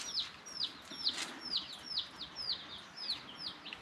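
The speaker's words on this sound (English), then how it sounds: "So Bonnie was really curious about the chicks" Young chicks on a tropical farm peep in a quick, steady series of high, downward-sliding chirps, close and fairly clear over a faint background hiss.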